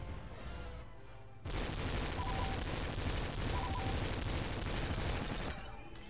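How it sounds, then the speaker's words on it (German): Enemy blaster fire in Star Wars Battlefront II, a dense rapid burst of shots that starts abruptly and continues steadily and loudly for several seconds before cutting off, with no talking. "Warum schießen die uns ab?"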